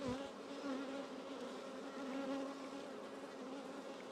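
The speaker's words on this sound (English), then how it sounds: "Really nice, these bees today. These are really nice bees." Honey bees buzz softly and steadily around an open hive, their layered hum faint and constant with no voices.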